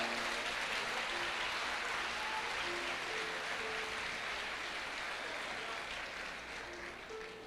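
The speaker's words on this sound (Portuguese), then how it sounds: "Se eu fosse vocês, eu dava uma aplauso às mulheres aí." A church congregation applauds steadily for the women during a Sunday evening service, sustained clapping from a large crowd that fades slightly toward the end.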